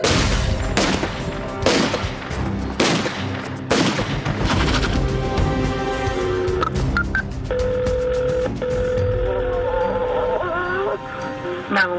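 Gunshots on an isolated wooded road, a series of sharp loud cracks fired in quick succession over a few seconds, followed by lingering tones and murmuring voices.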